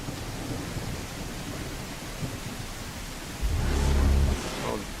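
A thunderstorm with rain in the video game Stars and Empires: steady rain hiss, then a deep rolling thunder rumble swells near the end and fades away.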